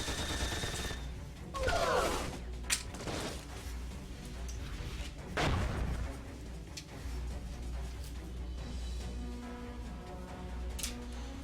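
Tiny Metal units fire all weapons at once, producing a dense run of sharp shots, crashes and mechanical clatter over a steady low game rumble, with two heavier bursts standing out.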